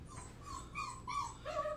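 Puppies yipping and whimpering in the background of a pottery studio, several short high-pitched yips and whines in quick succession, faint and somewhat distant over a low steady hum.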